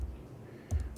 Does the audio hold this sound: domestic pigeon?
no